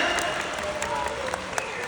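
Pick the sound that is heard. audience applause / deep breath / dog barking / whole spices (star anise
audience applause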